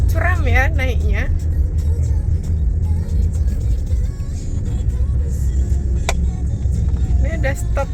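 A car engine droning steadily as it climbs a steep road on the Sembalun route in Lombok, a constant low rumble heard from inside the vehicle while people talk over it.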